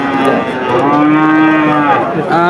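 A loud, drawn-out cattle moo close by, low and sustained with a rising and falling tone, followed by the start of another, at a cattle market in Bangladesh with bulls and calves for sale.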